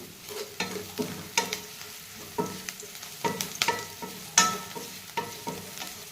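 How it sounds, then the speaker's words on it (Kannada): Eggplant palya fries in a pan as turmeric is stirred in, giving repeated, fairly rhythmic spoon-scraping strokes over a light sizzle, close and distinct with no voices. "ಇವಾಗ ಸ್ವಲ್ಪ ಅರಿಶಿನ ಹಾಕಿ ಅದನ್ನು ಸಹ ಚೆನ್ನಾಗಿ ಮಿಶ್ರಣ ಮಾಡ್ಕೋಬೇಕು"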